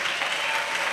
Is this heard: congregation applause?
yes